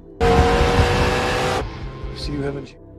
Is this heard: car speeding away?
yes